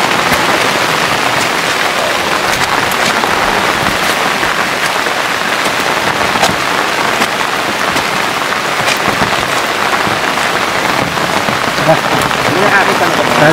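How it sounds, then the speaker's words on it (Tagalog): Heavy rain from an approaching typhoon pours down steadily and loudly, a dense unbroken hiss across the whole stretch with no voices. "parating na ang bagyo"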